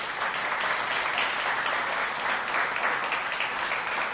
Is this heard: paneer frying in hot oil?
no